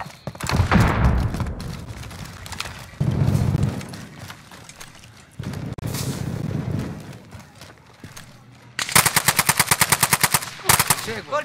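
Bursts of rapid machine gun fire rattle through a game soundscape, with heavy blasts early on and a fast sustained volley near the end.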